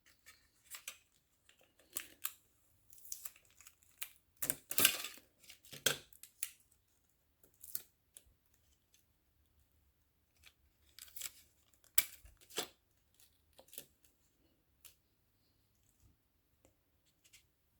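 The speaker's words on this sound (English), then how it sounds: "So I just put the scissors in the opening and give it a few cuts." Scissors snip paper while a shadow puppet of a camel rider is made, giving sparse clusters of crisp, close cuts separated by short silences, quiet overall.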